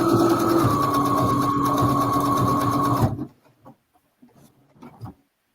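A sewing machine stitches a quilt top in a fast, steady mechanical whir for about three seconds. It then stops, leaving faint scattered handling noises.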